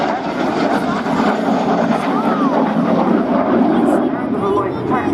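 French Air Force Alpha Jet flying past at Scampton, a loud, broad continuous jet roar with a steady rushing quality that holds throughout, no clear talk over it.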